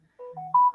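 A mobile phone ringtone plays briefly: a short melodic sequence of clear electronic tones stepping between pitches, fairly quiet and close, with no talk over it.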